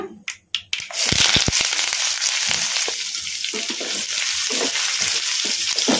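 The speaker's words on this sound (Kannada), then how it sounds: "ಉಳ್ಳಾಗಡ್ಡಿನ ಹೈ ಫ್ಲೇಮಲ್ಲಿ ಒಂದು ನಿಮಿಷ ಫ್ರೈ ಮಾಡ್ಕೊಂಬಿಡೋಣ" Onion and curry leaves hit hot oil with cumin over a high flame, a few sharp pops giving way to a loud, continuous sizzle with occasional stirring scrapes close by.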